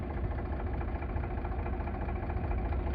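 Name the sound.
Eicher 38 tractor engine running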